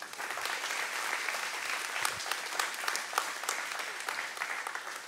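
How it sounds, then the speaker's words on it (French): Steady, dense applause from a congregation during a church service, continuous and fairly loud throughout with no speech over it. "On peut l'applaudir lui aussi."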